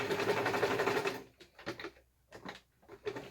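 A sewing machine runs a zigzag stitch along a seam: a steady, fast mechanical whir, then several short stop-start bursts with brief pauses between them, close and moderately quiet.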